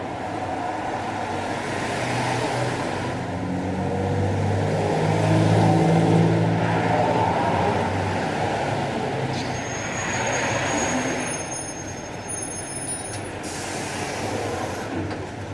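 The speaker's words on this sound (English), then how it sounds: "I hear a bus. Here comes the bus." A city bus rumbles in and pulls up to a stop in a steady low roar, with a thin high squeal near the end as it arrives, and no talking.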